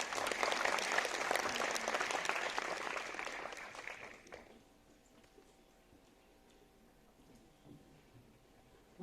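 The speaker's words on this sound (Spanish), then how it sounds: "les pido un gran aplauso para la doctora" Strong applause from an audience welcoming a female scientist at a lecture in Ecuador, dense and steady for about four seconds, then breaking off into a quiet room with faint shuffling.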